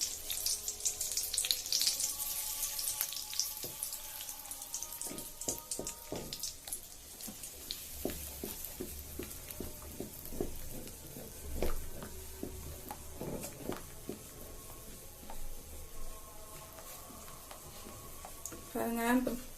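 Butter melting in a pan for home-made chicken wings, giving a soft, faint crackle and sizzle with scattered pops, heard under a person speaking.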